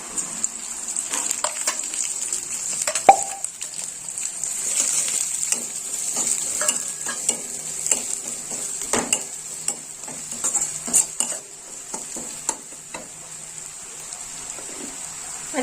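Garlic sizzles in hot oil in a pan as already fried onions go in for a Bengali mahi kalia of rohu fish, with a steady crackling hiss under repeated scrapes and clinks of a spatula stirring, close and without talk.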